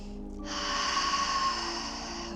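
A deep, steady breath drawn during a yoga flow session; a single long, airy inhale, close and moderately loud, sustained for about two seconds with no talking.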